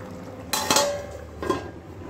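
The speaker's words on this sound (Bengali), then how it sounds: "এবার আরেকটু ঢাকা দিয়ে দেব" A metal lid is set onto a pot of simmering Bengali mustard vegetable curry, giving two close clanks about a second apart over a low kitchen hum.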